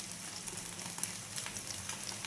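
A rava dosa topped with egg sizzles on a hot pan after being flipped, a steady soft frying hiss with scattered small crackles and pops, no voices.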